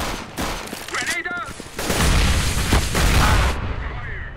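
Grenade blasts and gunfire in a CS:GO matchmaking round, dense loud booms and shots running together over a few seconds, with a player's voice briefly audible beneath the din.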